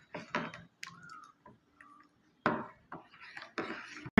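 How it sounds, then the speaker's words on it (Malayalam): Kochi koya being mixed with lemon juice in a bowl makes quick clicking and wet scraping strokes in bursts, close up, with pauses between the stirring motions. "അവസാനമായി നാരങ്ങ നീരും കൂടിയും ഒഴിച്ചു കൊടുത്ത് മിക്സ് ചെയ്യാം. നല്ലോണം മിക്സ് ചെയ്യണം."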